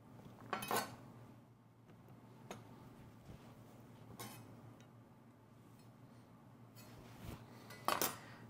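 A knife slices through a fresh lemon on a cutting board while chicken and sugar snap peas are prepped for a wok. A few sharp, separate clicks and taps, plus light board knocks, sit over a faint steady background hum.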